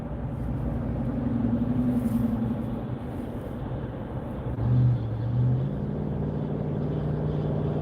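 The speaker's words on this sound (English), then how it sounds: "You guys hear that truck?" A truck passes on a road near a red light, a steady loud engine rumble with a low droning tone that swells around the middle and then holds on, with no talking over it.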